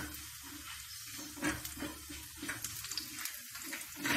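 Pieces of a wheat flour and pea snack frying golden in a pan, a soft continuous sizzle with faint bubbling, fairly quiet throughout.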